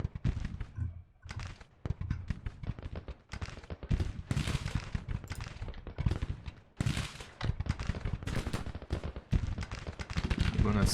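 Musket volleys crackle continuously in a Grand Tactician: The Civil War battle in the woods, dense overlapping shots popping in irregular bursts from near and far, with a voice speaking intermittently beneath the gunfire.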